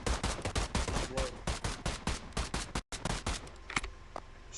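A rapid string of close, loud gunshots in a OneState RP roleplay shootout, the rhythmic volley rattling off for nearly three seconds, then a brief gap and a few scattered later shots.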